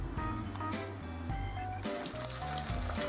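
Breaded chicken cutlets fry in hot oil with a continuous crackling sizzle, partly masked by louder background music with stepped low notes throughout.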